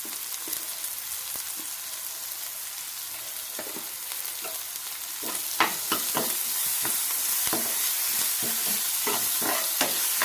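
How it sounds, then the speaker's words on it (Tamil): Ginger garlic paste sautéing with onions in a pan for prawn thokku, a steady close sizzle with scattered stirring clicks and scrapes that grow louder and busier midway, no talking. "இஞ்சி பூண்டு பேஸ்ட் கொஞ்சம் வதக்கணுங்க."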